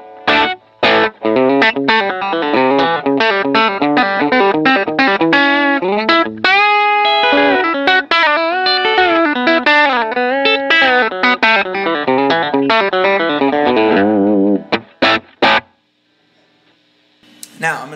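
An electric guitar, a Telecaster at about 60% volume through a Fender Pro Junior amp, plays a melodic phrase of ringing single notes and chords with a slightly driven, clean-ish tone and light effects.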